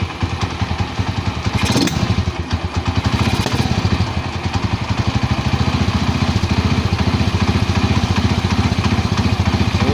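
A TMX155 motorcycle fitted with a racing CDI revs loudly up close, its engine pulsing in a fast, rough, even beat with a sharp throttle blip early on, with no talk.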